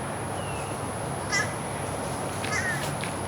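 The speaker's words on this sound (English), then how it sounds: "there's a crow up there" A crow perched high overhead gives two brief, distant caws about a second apart over steady outdoor background hiss.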